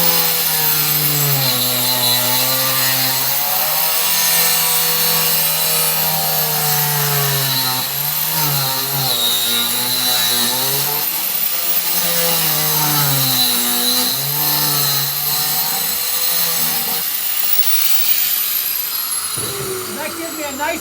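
The rough edge of a concrete fabric planter is sliced with a steady, continuous whirring and grinding that holds close and loud for about twenty seconds, its pitch wavering slightly.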